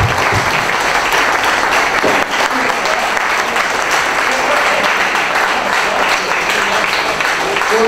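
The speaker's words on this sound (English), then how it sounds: "let's give all the candidates a round of applause." A forum audience at a Republican gubernatorial candidate event in Atlanta applauds the candidates with steady, dense clapping that fills the room at constant loudness from start to finish.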